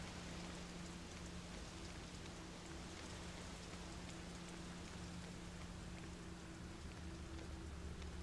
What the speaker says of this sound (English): I like the sound of the rain.